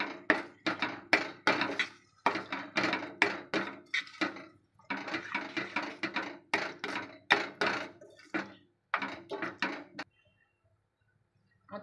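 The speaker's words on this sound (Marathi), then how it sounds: "मिक्स करून घेऊया सर्व भाजी." Pav bhaji vegetables being stirred in a pan, with a run of rapid scraping and knocking strokes in dense bursts for about ten seconds, then stopping.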